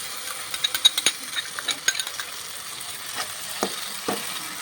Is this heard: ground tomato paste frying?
yes